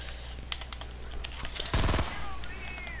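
Suppressed submachine gun firing in Fortnite, a sharp rapid burst of closely spaced muffled shots lasting about a quarter second, preceded by scattered quieter taps and followed by lighter game effects.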